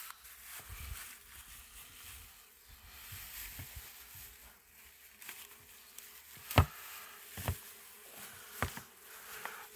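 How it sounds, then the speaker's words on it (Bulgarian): Aggressive Rhodope bees buzz in a low, steady drone near the microphone, broken by several sharp knocks and bumps, with no talking. "Родопиката наистина са много агресивни пчели."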